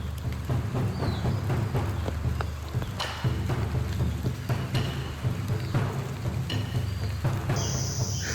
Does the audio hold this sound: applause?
no